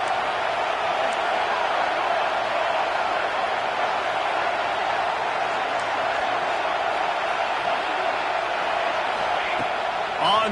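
A football stadium crowd rising up and cheering, a dense sustained roar of many voices that holds loud and steady throughout, with a commentator talking over it.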